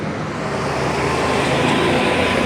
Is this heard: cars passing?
yes